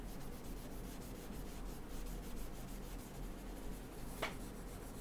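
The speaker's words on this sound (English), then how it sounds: "I just smoothed it off with the baby oil" Coloured pencil on paper being smoothed with baby oil gives a quiet, steady rubbing and scratching texture, close and faint, with one slightly sharper stroke near the end.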